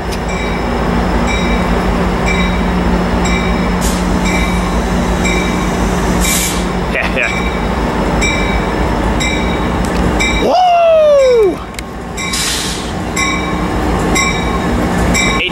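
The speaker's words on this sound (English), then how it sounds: "here comes another Metro Lane coming into on track four" Metrolink commuter train led by an F59PHI locomotive pulling into track four at Riverside station: steady loud rumble of rolling cars with rhythmic rail clatter, a brief rising wheel squeal near the end, then the rumble continues.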